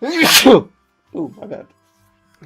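A single loud, sharp sneeze close to the microphone, followed by a person speaking briefly.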